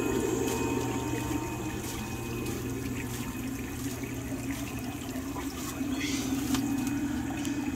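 An aquarium air pump runs turned up high in a fish tank, producing a continuous low hum and steady bubbling, gurgling water that stays constant throughout with no talking.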